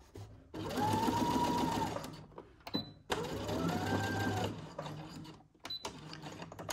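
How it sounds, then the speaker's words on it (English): Sewing machine stitching a seam in two long steady runs of fast, buzzing mechanical stitching, separated by a short pause and a reverse for backstitching, close and clear with no talking. "And we will stop at the big circle and backstitch."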